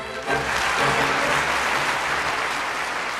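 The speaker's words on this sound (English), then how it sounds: "Let's give a round of applause to our school athletes." An audience at a school sports oath-taking ceremony applauds for its athletes, a dense, loud wash of clapping that swells in quickly and holds steady.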